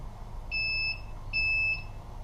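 Two short high-pitched electronic beeps from a drone flight controller arming, each a steady tone lasting under half a second, evenly spaced over a faint background hum.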